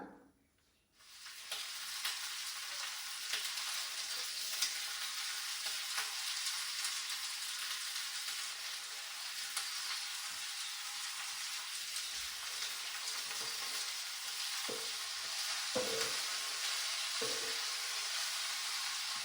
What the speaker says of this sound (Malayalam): അപ്പുറത്തെ അടുപ്പിൽ നമ്മളിപ്പം കടുക് പൊട്ടിച്ച് സവോളയൊക്കെ വഴറ്റാൻ പോവാണ്